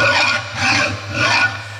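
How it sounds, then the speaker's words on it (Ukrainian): A hand file rasps over a metal part clamped in a vise in a metalworking training workshop: three steady, rhythmic back-and-forth strokes, loud and close, with no talk. "Ось це – опилювання металу."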